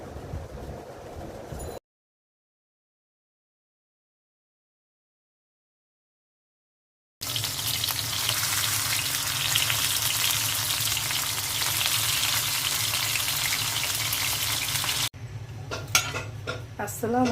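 Pumpkin leaf rolls wrapped around dried fish fry with a steady, loud broadband sizzle, preceded by a brief burst of kitchen noise and a long silent gap, with clattering utensil sounds near the end.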